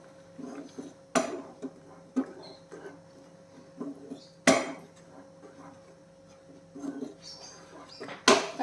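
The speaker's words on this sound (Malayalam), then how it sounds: "നല്ലപോലെ മിക്സ് ചെയ്തേക്കാം." Spoon scraping and clinking against a pan while mixing egg curry, sharp metallic knocks at irregular intervals over soft stirring, with occasional quiet speech.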